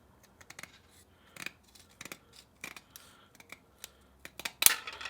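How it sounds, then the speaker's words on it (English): Scissors cut through modeling mesh for a custom panel on a Royal Enfield Interceptor 650, making a series of quick, close, crisp snips in an irregular rhythm with short pauses between cuts. "it's very easy to cut with scissors"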